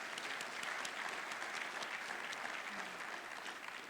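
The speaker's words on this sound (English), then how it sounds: "How about a round of applause for our chairman this afternoon?" A crowd applauds steadily, a dense even patter of many hands clapping at moderate distance throughout.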